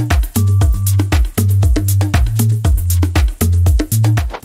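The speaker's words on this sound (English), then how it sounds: "Percussive elements are really tight and together," Deep house percussion plays: tight, punchy kicks under crisp hats and claps in a steady, locked groove, full and loud, with a deep bass line running beneath and no talking.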